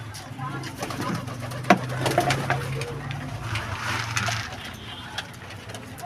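Pigeons coo in low, repeated throaty calls close by while birds are fed maize, mixed with light scratching and pecking noises and a faint voice in the background.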